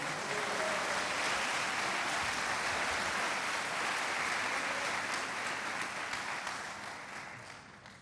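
Church congregation applauding, a dense sustained wash of clapping that holds steady and fades toward the end, with no voices over it.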